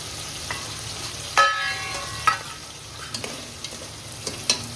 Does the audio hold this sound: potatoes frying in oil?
yes